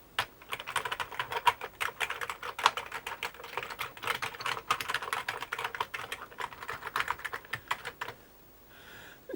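Fast, steady typing on an Amiga 600 keyboard, a dense run of close, crisp key clicks lasting several seconds before stopping near the end.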